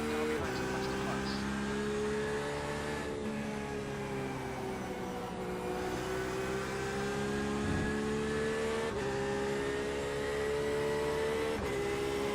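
An in-car engine drone from the iRacing 24-hour race at Circuit de Barcelona Catalunya holds steady with gear-change shifts, while an LMP prototype race car closes in, and a voice talks over the noise.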